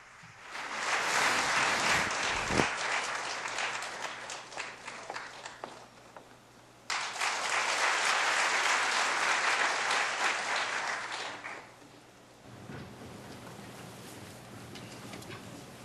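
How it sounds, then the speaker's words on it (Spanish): A church congregation applauds after a choir sings a hymn, with dense clapping in two long bursts separated by a brief lull, then dying down to a quieter murmur and scattered sounds. "vamos a darle un gran aplauso"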